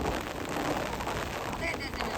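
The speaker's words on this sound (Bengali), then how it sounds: "যেমন বৃষ্টি তেমন বাতাস, প্রচুর বৃষ্টি প্রচুর বাতাস" Heavy rain pours down in a dense, continuous hiss while gusts of wind roar around it, loud and unbroken throughout.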